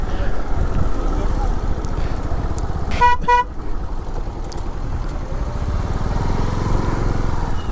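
Steady motorcycle engine and road rumble while riding between Munnar and Vattavada, with a short horn honk cutting through midway amid busy traffic noise.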